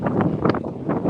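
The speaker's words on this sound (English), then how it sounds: "we're sorry about the wind," Wind blasting across an outdoor microphone makes a loud, steady low roar with pulsing gusts that rise and fall in quick waves.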